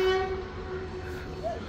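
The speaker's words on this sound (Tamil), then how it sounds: "ரயில் வந்துருக்கு." Train pulling into a small station in Nuwara Eliya, Sri Lanka, with a sustained steady tone and rumble throughout, moderately loud, and a brief higher squeal near the end, no speech.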